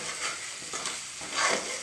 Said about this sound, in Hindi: देखिए पेस्ट हमारा अच्छी तरह से भून चुका है